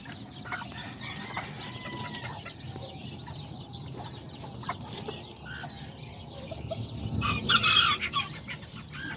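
A white silkie hen with a brood of about seven newborn chicks, giving steady clucking and chick peeping amid other nearby farmyard chickens, with a louder burst of clucking toward the end.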